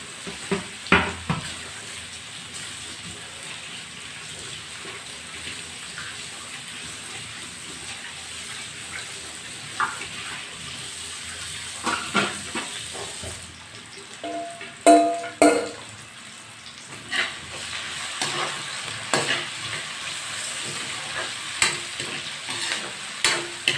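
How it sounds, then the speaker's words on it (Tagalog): Potatoes fry in a pan while being cooked for a chicken dish, a soft continuous sizzle broken by scattered scrapes and stirring clatters of a utensil, fairly quiet and with no talk. "Para malambot na rin, para ma-prito na rin yung mga patatas na yan."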